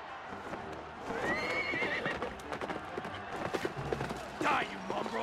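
Horse troops in the PS2 strategy game Kessen 2 whinny and gallop through a battle, with clip-clop hoofbeats and neighing rising over a dense din of combat while a voice talks.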